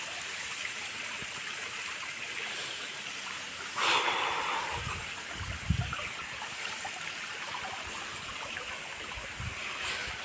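Shallow stream running over pebbles at a forested temple trekking site, a steady broadband wash of flowing water, close and continuous, with a brief brighter splash near the middle and a few low thuds.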